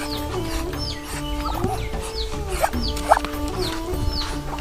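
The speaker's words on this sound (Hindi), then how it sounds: "हमने बतख भी पाल के रखे हैं।" Domestic ducks calling nearby, with repeated clucking and quacking-like squawks over a steady background hum, no talking.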